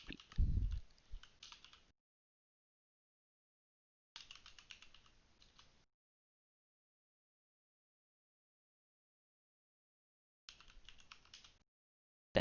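A computer keyboard clatters close by as someone types a PHP artisan command into a command prompt. The keystrokes come in three short bursts separated by quiet pauses.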